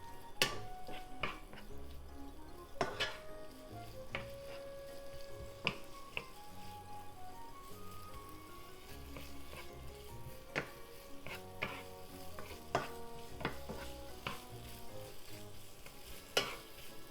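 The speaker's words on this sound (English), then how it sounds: "And let's cook the seafood first." Seafood fries in vegetable oil in a frying pan over medium heat, a constant close sizzle broken by sharp pops and the clatter of stirring, with no talking.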